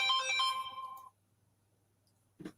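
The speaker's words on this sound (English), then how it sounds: "My phone's ringing" A phone ringtone plays a bright melodic tone for about a second, then cuts off into near silence before a brief low bump at the end.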